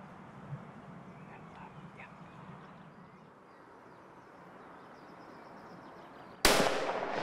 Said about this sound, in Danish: Så lykkes det endelig at få skudt